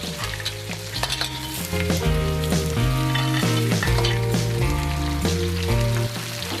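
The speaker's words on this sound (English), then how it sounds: "Mix all the ingredients up and stir fry it at high heat." Brown crab pieces stir-frying over high heat with ginger and spring onions, a loud, dense, close sizzle and crackle under steady rhythmic stirring and tossing, with no talk.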